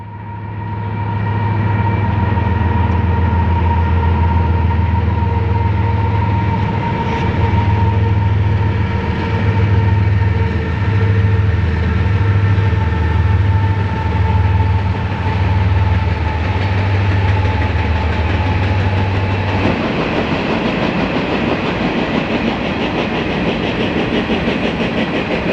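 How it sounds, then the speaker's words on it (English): Union Pacific 5373 leads Canadian Pacific and BNSF locomotives on an empty grain train across a long dike beside still water, a loud steady low engine drone with rail clatter rolling past, the tone shifting as the consist moves by. "Union Pacific's 5373 enters the scene, leading Canadian Pacific and BNSF Power on the long dike"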